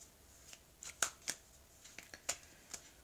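An oracle deck of mirror cards is shuffled by hand, giving a string of crisp, quiet card riffles and taps at an uneven pace, heard alone at close range.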